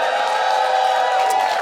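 Comedy-club audience at a drag queen's stand-up show cheering loudly, a sustained wall of whoops and shouts from a packed room, steady and full throughout the short burst.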